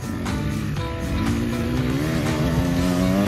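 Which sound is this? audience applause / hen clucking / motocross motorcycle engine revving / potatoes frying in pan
motocross motorcycle engine revving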